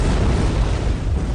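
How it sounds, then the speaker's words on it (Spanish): An explosion aboard the Russian submarine Kursk comes as a dense, roaring burst of noise, loud and unbroken for its short length with no voices. "Se produjeron dos explosiones de tal magnitud que se registraron en Alaska"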